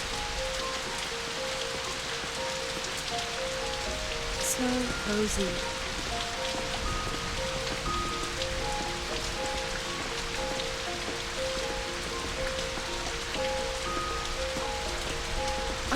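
Rain pours steadily in the video game Know by Heart, a constant close hiss of drops under soft, slow musical tones, with a brief spoken line and a couple of small clicks early on.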